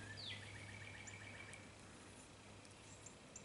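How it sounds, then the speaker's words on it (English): Birds sing outdoors, heard faintly through an open back door in Kansas City, with a quick chirping trill early on and a few light high calls afterward over a low steady room hum. "Can you guys hear the birds?"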